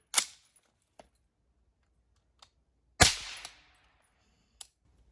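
A Sig Virtus Tacops rifle in 300 Blackout fires supersonic rounds outdoors: two sharp, loud cracks about three seconds apart with echoing tails, plus faint clicks between.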